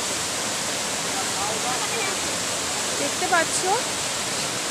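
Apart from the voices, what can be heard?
Sita Falls waterfall near Ranchi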